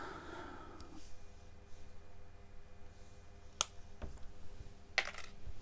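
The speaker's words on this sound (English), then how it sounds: "So I'm just going to go ahead and cut the leads down." Wire cutters snip the leads of small electronic components during a model railway track cleaner conversion, with two sharp, distinct clicks against a quiet background.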